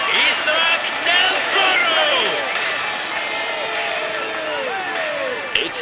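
Crowd cheers and applauds a cyclist on a stage of the Tour de France in a PC racing game, a steady dense roar of clapping and whoops with rising shouts held throughout at close, loud level.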